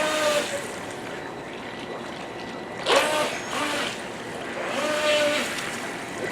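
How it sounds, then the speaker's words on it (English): A Syma Q7 Knight RC boat whirs across water with a steady high motor whine and splashing, surging louder in a couple of passes, and faint voices now and then in the background. "It's a fast little boat,"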